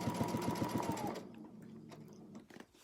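A sewing machine stitches free-motion microquilting, laying successive layers of thread. It runs in a fast, steady, close whir for about a second, then stops, leaving only faint handling noises.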